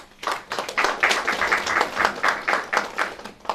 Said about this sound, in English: I would request all of you to have a separate round of applause for Rajesh for his works